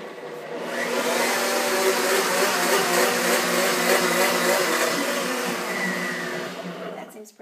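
A blender or mixer whirring through batter in a home kitchen, a steady loud motor drone that ramps up, holds for several seconds and winds down, close by with no talk.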